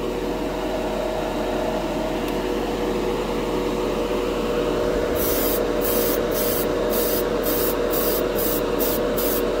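An airbrush spraying Golden High Flow acrylic paint onto plastic gives a steady, close hiss throughout, with a run of short rhythmic air bursts breaking in over the second half.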